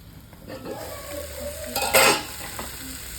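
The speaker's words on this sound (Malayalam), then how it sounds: "ഇനി നമുക്ക് മിക്സ് ചെയ്ത് കൊടുക്കാം" Food frying in a pan is stirred and mixed with a utensil while it sizzles, with scraping and clinking against the pan and one louder scrape burst near the end.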